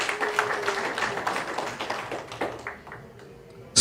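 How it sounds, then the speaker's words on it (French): Audience applauding at a humanitarian conference, a dense patter of many hands clapping that gradually thins and fades out. "que je vous demande d'applaudir"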